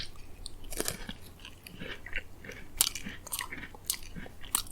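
Crisp bites and steady chewing of a golden Oreo cookie, close and quiet, with irregular crunchy bursts across a few seconds and no talking.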